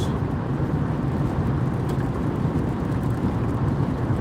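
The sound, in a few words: heavy rain pouring while driving on a wet road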